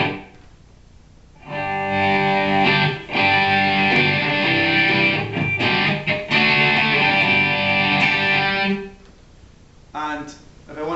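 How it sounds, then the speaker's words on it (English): Electric guitar played through a Boss DS-1 distortion pedal for rhythm, from a JS1000 effects setup: dense, sustained distorted chords ring loud for about seven seconds, then cut to quieter noise with a brief strum near the end. "I will use the DS1 on its own for rhythm distortion"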